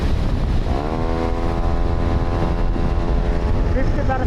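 A motorcycle engine runs steadily at half throttle on a dirt ride, a loud continuous droning tone with a rising pitch that then holds level over constant wind and road noise.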